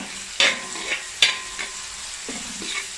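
Ground spices stirred in a pan for prawn biriyani: two sharp spoon scrapes and clacks over a soft background sizzle, with a couple of lighter stirring sounds after, no talk.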